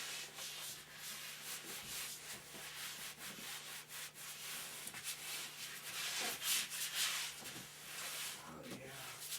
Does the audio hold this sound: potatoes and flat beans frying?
no